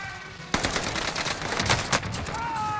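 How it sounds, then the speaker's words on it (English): Rapid, loud burst of explosive blasts and gunfire-like cracks from an airstrike in the video game Call of Duty: Warzone Pacific, starting abruptly and rumbling on in dense, uneven bursts, with tonal game sounds near the end. "Airstrike here."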